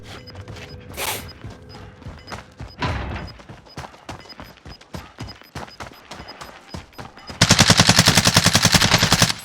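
Gunfire in the game Call of Duty Warzone: scattered sharp shots and clicks at first, then a loud, fast burst of automatic fire near the end lasting about two seconds.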